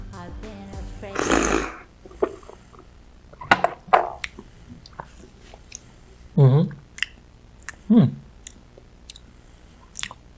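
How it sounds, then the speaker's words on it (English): Silver Needle white tea is slurped noisily from a cup in short, sharp bursts. Loud sucking pulls alternate with softer smacks and swallows, close to the listener, in an otherwise quiet room. "Now let's slurp."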